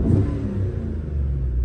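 A Chevy engine revs hard at full throttle during a crankshaft variation relearn, a loud low rumbling roar that holds steady through the short burst.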